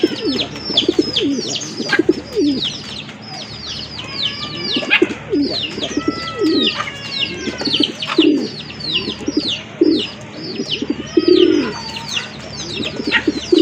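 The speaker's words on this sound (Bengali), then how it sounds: "খুবই অ্যাক্টিভ, প্রচুর ডাকে এক জোড়া বড় পায়রা কবুতর" A pair of large, very active red pigeons kept in a loft: repeated deep, throaty cooing phrases close by, overlapping with higher chirps and tweets from other birds in a busy, continuous chorus.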